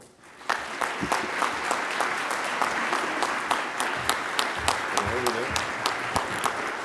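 A conference audience at an awards presentation breaks into sustained applause welcoming a recipient to the stage, many hands clapping steadily and evenly for several seconds, loud and filling the room.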